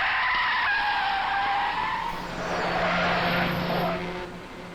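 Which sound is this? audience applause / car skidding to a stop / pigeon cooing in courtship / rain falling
car skidding to a stop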